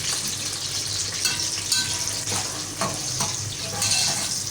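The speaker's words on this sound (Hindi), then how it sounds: "अब हम इसको फ्राई करने लगे हैं" Sliced onions frying in a pan for dal chicken: continuous close sizzling and crackling with occasional stirring scrapes, moderately loud and without speech.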